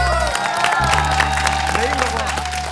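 Audience applause and cheering at a live variety stage as a dancer is introduced, a continuous crowd roar with clapping layered over a steady musical hum, loud and sustained throughout.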